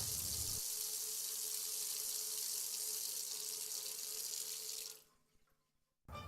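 Water from a sink tap runs in a steady, loud rush for about five seconds, then the tap is shut off. Near silence follows before a brief burst of noise at the very end.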